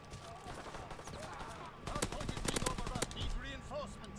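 A machine pistol in Call of Duty WW2 fires rapid bursts of gunfire, a loud, tight cluster of sharp shots after a quieter stretch of faint game ambience.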